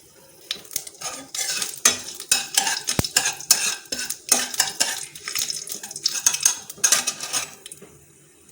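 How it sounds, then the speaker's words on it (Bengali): Spices frying in hot oil in a pan for a Bengali jhinge sukto, with a spoon scraping and clanking against the metal in an irregular stirring rhythm over a soft sizzle, close and loud. "এটা 2 থেকে 3 সেকেন্ড মতন আমি ভেজে নেব। তারপর মশলাগুলো আমি দেবো।"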